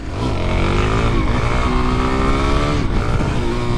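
A motorcycle rides along at a steady pace, its engine droning loud and close with a rising and falling pitch as it holds third gear, blending with wind rush and no talk over it.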